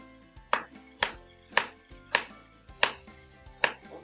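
A knife chopping jicama into cubes on a cutting board, with six crisp, evenly spaced chops close up, each followed by a short thud, no talking.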